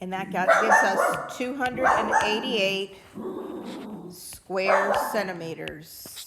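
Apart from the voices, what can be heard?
dog barking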